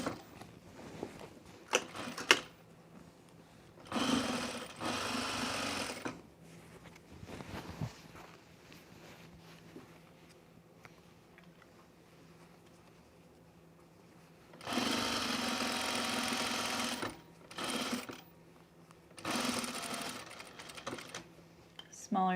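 A sewing machine stitches a blazer in several bursts, each a few seconds of rapid mechanical whirring, with quiet gaps between where a person speaks softly.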